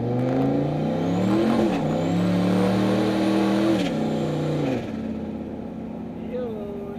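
Turbocharged Chevrolet Silverado with full exhaust pulls hard from a slow roll, loud engine note climbing in pitch through rising revs, then dropping back as throttle eases near the end.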